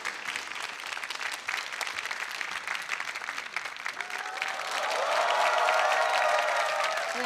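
Concert audience at an economics talk show event claps to welcome a singer, a broad wash of many hands that swells louder midway, with a faint tonal sound rising underneath near the end.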